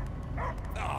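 Cosmo the dog in the Guardians of the Galaxy video game gives a couple of short, close barks and yips over a low rumbling game soundtrack.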